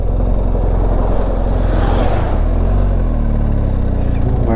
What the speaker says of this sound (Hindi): इसमें ओवरटेक कर रहे हैं यार कार वाले